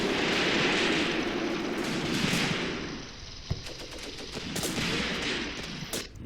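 Sustained gunfire and artillery rumble from the WWII tactical game Graviteam Tactics: Mius Front, a dense continuous barrage with scattered sharper shots and one distinct nearby crack partway through.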